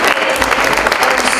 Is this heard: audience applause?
yes